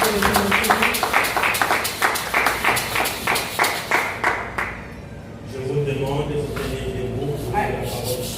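Church congregation clapping in acclamation during a bilingual French-English Sunday service, a steady run of rhythmic claps for about five seconds that then fades into a softer, murmuring room tone.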